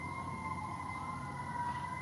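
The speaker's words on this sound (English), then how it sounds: "It's a fire truck." Fire truck siren wailing steadily in a home setting, moderately loud, with a sustained rising tone layered over low rumble and no one talking.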